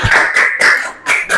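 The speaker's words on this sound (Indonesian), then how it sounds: "Beri tepuk tangan untuk kelompok 4." A classroom group applauding for group 4 in an Indonesian school lesson, a short burst of several loud, close claps in uneven rhythm with brief gaps between them.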